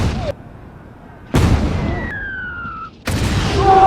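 Cannons fire in a samurai film battle: three loud, heavy booms, each with a long rumbling tail that decays, separated by short pauses.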